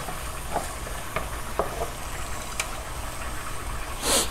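Chopped scallions sauté in a pan for Jamaican tin mackerel run dung. The oil keeps up a steady sizzle, with occasional soft stirring scrapes and a brief louder splash of spattering near the end.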